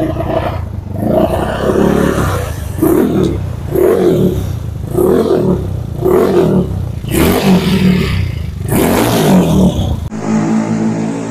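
A Honda Beat ESP scooter with a custom-tuned CVT pulley revs hard on a road test, its engine roaring in repeated rising and falling surges, loud and close, before the clip cuts to a thinner steady tone.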